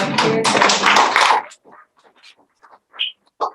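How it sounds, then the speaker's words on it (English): A workshop audience on care, health and housing breaks into a short, loud round of clapping that stops abruptly, followed by a few scattered faint taps and murmurs. "give yourself a round of applause there"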